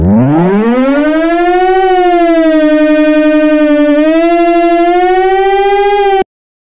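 A Brazilian civil defense siren sounds during a test, a loud, close, steady wailing tone that rises at the start, holds with slight pitch wobbles for about six seconds, then cuts off abruptly.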